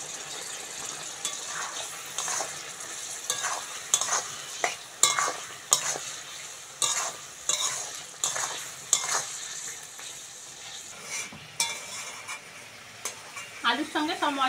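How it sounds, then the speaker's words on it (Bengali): Potatoes tossed with ground cumin, coriander, chilli, turmeric and salt sizzle in a pan as a spoon scrapes and stirs in repeated sharp strokes, close and fairly quiet, with no talking. "আলুর সঙ্গে সব মশলাগুলো ভালো করে কষে নিয়েছি।"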